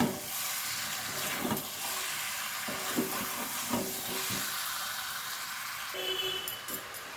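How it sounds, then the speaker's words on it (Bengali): Chicken sautéing in a pan with little oil, a steady hissing sizzle under occasional stirring scrapes and clinks of a utensil, close and moderate in level. "এবারে আমি আরেকটু ভালোভাবে কষিয়ে নেব।"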